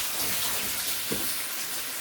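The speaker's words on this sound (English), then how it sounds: "I'm just rinsing off my shrimp because my shrimp is already cooked." Cooked shrimp rinsed under a running kitchen tap, a steady close rush of water with a brief splash midway, alone without talk.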